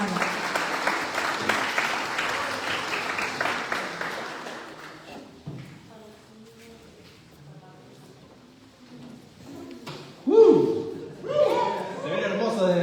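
Church congregation applauding, a loud sustained clapping that fades after a few seconds, followed by quieter room sounds and a few brief chuckles and knocks.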